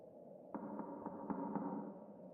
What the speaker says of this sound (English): Sounds like they're knocking to get somebody's attention.